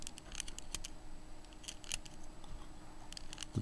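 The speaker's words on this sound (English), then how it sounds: "I'm going to scrape the plastic away so I expose" Quiet, close scraping of plastic away from a pin on a Sony S40 camera, heard as faint, irregular scratchy strokes with a brief louder scrape at the end.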